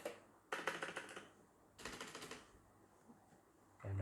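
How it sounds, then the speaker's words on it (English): Keys on a mechanical keyboard with blue switches clatter in two quick runs of crisp clicks, close and fairly quiet, with a single tap at the end. "Not sure if you can actually catch the sound of the keyboard typing space"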